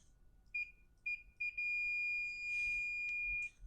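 A multimeter set to continuity beeps as its probes touch a fuse: three short tones, then one long steady beep lasting about two seconds, clear and close over a quiet background.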